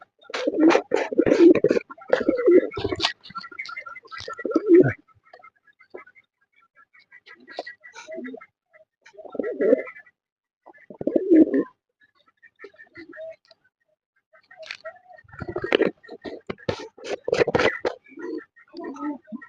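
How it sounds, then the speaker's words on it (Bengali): Lakkha pigeons coo repeatedly nearby in bursts of low throaty calls with short pauses between them, some overlapping, alongside faint wing flutters and scratching. "কালো লক্ষাটা ডাকছে, আশপাশে যাচ্ছে"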